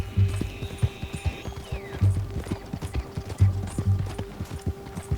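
Horse hooves clip-clop in a steady, rhythmic gait while riding in the video game Red Dead Redemption 2, close and fairly loud, with soft game ambience behind.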